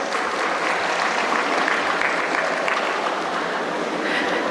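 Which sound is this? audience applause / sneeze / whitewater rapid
audience applause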